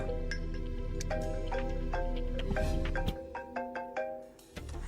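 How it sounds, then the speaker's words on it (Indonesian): A mobile phone plays a melodic ringtone indoors, a clear repeating sequence of bright chiming notes that keeps ringing for several seconds. "Bel, telepon kamu bunyi tuh"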